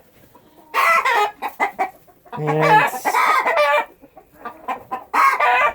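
Young roosters and hens cluck and squawk in a coop in short, close bursts, with one brief rough crow in the middle.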